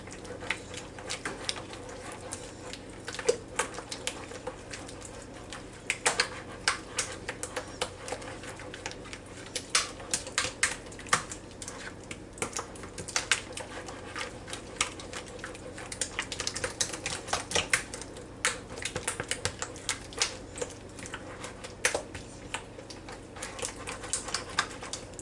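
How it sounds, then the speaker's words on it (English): A spoon stirring a casserole of squash, zucchini, carrots and creamy chicken soup, making soft, quick, continuous wet clicks and taps close by for a long stretch with no talking. "So we'll stir this together."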